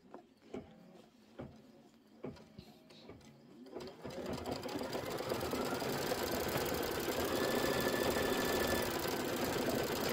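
A computerized quilting machine stitches Kimberbell Candy Corn border blocks, first with a few sharp mechanical clicks and thumps, then a loud, steady rapid stitching hum that carries on to the end.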